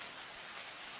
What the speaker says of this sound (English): the car's interior filled with the sound of rain